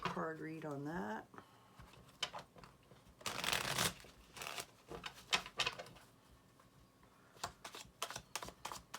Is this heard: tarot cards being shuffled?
yes